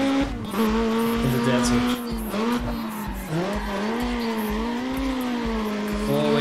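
Race car engine roaring with tire squeal in the racing video game Need for Speed ProStreet, a loud sustained engine drone shifting in pitch with music mixed in, and a voice speaking briefly over it.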